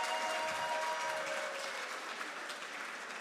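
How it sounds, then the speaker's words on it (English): Crowd applause at the Eurobot 2024 robotics finals after the Serbian team's victory, dense steady clapping filling the hall throughout. "Please applaud the team."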